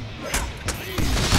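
Explosions in the Deadpool video game, several sharp booming blasts in quick succession, loud and close, with a dense rumbling background between them.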